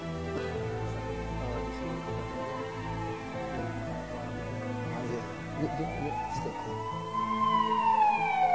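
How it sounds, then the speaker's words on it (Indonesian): An ambulance siren wails and rises in pitch, growing louder toward the end over a murmuring background during a film discussion event. "Ada ambulan mau lewat, kayaknya mendesak."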